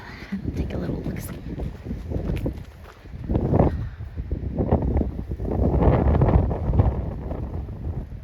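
Gusty wind on an Appalachian Trail mountain top buffets the microphone in low rumbling waves that rise and fall, loud and close, with a voice talking intermittently underneath.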